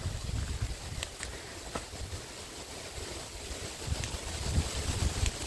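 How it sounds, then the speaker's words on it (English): Wind blows outdoors among pine trees, buffeting the microphone with low, uneven rumbling gusts that rise and fall, joined by a few faint higher clicks. "The wind is blowing pretty good."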